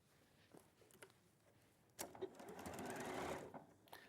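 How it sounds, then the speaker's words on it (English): Nearby, a sewing machine stitches quilt blocks together in a quiet, steady whir that starts suddenly and runs for about two seconds before stopping, following a few soft handling taps. "I'm going to sew it together, right sides together, to this sewn block"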